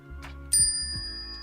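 A single bright, ringing bell chime used as a subscribe-notification sound effect strikes once and lingers briefly over a soft low backdrop.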